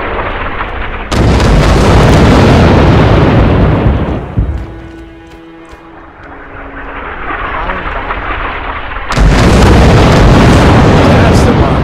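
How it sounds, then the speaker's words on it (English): Mortar blasts in the World War II shooter Red Orchestra 2 come as two heavy, roaring booms, each dying into a long rumble, with a quieter stretch between them. "Oh, I heard mortars."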